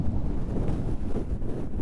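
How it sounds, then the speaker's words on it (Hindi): Strong wind in Mustang, Nepal roars steadily and loudly, buffeting the microphone with a constant low rush. "बहुत तेज हवा है।"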